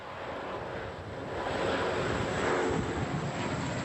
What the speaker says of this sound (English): they're hindering the 2 planes which can't drop their water and keep whirling in the sky